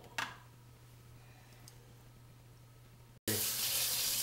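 Tap water runs into a kitchen sink, starting abruptly near the end as a loud steady broadband rush after a quiet stretch with a brief click and low hum.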